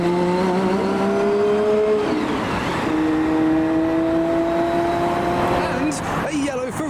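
A Gordon Murray GMA T50 fan car accelerating hard in traffic, its engine note climbing loudly through the gears with brief drops at shifts, close and dominant throughout.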